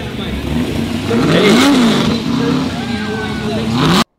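Engine of the big Ford Falcon Cobra rally car at Targa Tasmania, a loud, continuous drone that rises and falls as the car revs through gears, with people talking over it, then cutting off abruptly.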